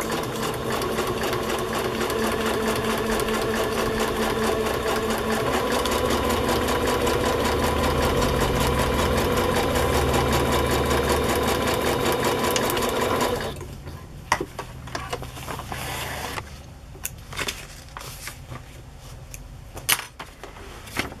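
A sewing machine stitches zigzag binding onto a quilt, its needle chattering in a fast, steady close-up rhythm for about thirteen seconds before it stops, leaving scattered small clicks and handling noises.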